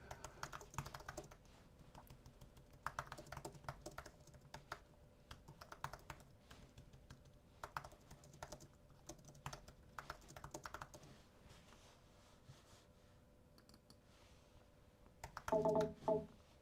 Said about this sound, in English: I'm going to shut up while I type since I seem to type better.